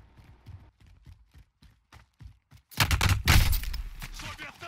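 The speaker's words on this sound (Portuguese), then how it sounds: "tá dando tiro aqui" Gunfire in the Call of Duty Warzone video game: after a run of soft rhythmic thuds, a loud burst of rapid automatic shots and clattering crashes breaks out, dense and close.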